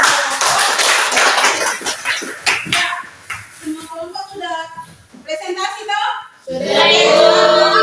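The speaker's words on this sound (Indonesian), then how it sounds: "kita beri tepuk tangan untuk" A short round of clapping from a middle-school class in an Indonesian lesson, crisp claps at the start giving way to voices, then a rougher burst of noise near the end.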